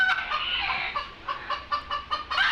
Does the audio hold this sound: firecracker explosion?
no